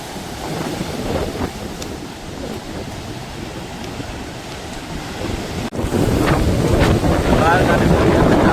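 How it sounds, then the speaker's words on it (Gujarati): Sea waves roll in at Dwarka on the Gujarat coast, a loud steady wash of surf mixed with strong wind buffeting the microphone, growing louder partway through. "આ છે દરિયાની મોજ"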